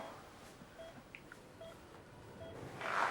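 A telephone number is dialed as a short series of faint, evenly spaced keypad tones under a quiet room hush, ending in a rustling noise, with no talk.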